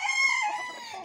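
A rooster crows on a farm in one short, close, clear call that fades out at the end.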